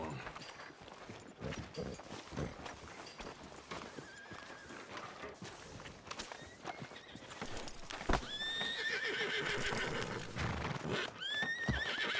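Horse whinnies and clopping hooves in the Red Dead Redemption 2 game world: steady hoofbeats throughout with two loud, rising neighs near the end, mixed with faint background activity.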